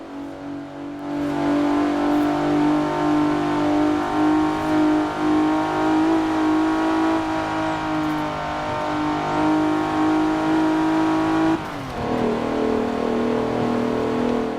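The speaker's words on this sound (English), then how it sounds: "over revving it a tad there" The Regalia Type-D car from Forza Horizon 4 holds its engine at a loud, sustained high-rev drone. A brief dip near the end sounds like a gear change before the revs climb again. No one speaks.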